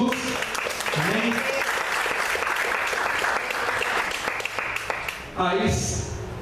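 A church congregation applauds at an evangelistic service, a dense roomful of clapping under a preacher's voice, swelling and then giving way to a burst of music near the end.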